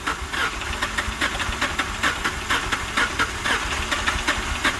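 A Ford Crown Victoria engine cranks in a steady, rapid rhythm as the starter turns it over without catching, fairly quiet and with no talk.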